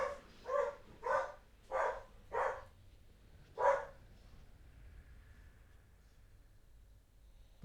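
A dog barks five times in a quick, regular series, then once more after a brief pause, fairly loud and close over a quiet background with no talking.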